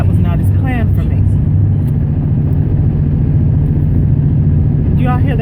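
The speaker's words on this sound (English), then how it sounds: "this is the noise that my car is making" A car making an abnormal noise, a loud steady low engine drone with a droning tonal hum heard from inside the vehicle, with someone talking briefly over it at the start and end.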